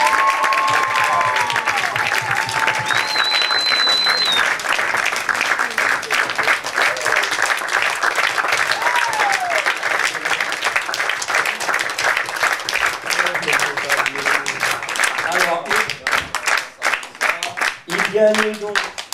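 Audience applause for the winner of a Paris slam poetry contest at the 3 Baudets in 2011, sustained dense clapping filling the room, with voices and a few cheers rising toward the end.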